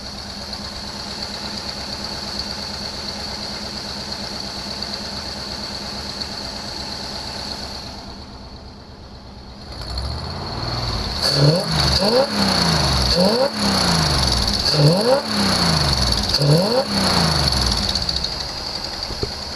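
A 1974 Chevy Nova being prepared for autocross idles steadily, dips briefly, then revs repeatedly in rising and falling bursts, loud and close, with no one talking over it.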